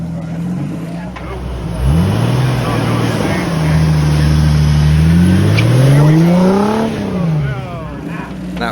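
A Jeep Wrangler TJ's 4.0-liter engine revs hard off-road in mud, climbing and falling in pitch through repeated loud rising and dropping revs.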